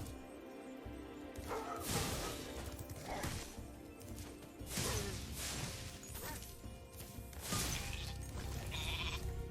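Sheep bleating in Spyro the Dragon Reignited, Artisans Homeworld level: repeated nasal bleats come every couple of seconds over game music and scattered crashes.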